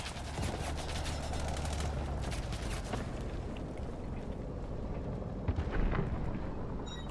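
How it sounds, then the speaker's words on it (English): Guided missile strike on a tank in the video game Delta Force, a dense rumbling barrage of explosions and crackling blasts that stays loud and continuous, fading slightly toward the end. "I drop the missile on the tank and proceed to take the objective back."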